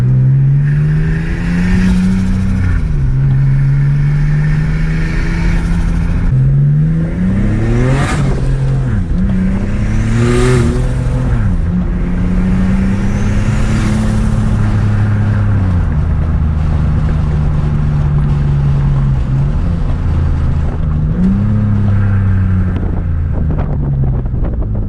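A Nissan G35 with a custom mid-mount turbo cruising with the windows open, its engine rising and falling through repeated gear changes under steady loud wind rush and road roar.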